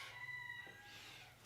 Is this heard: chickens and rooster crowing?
yes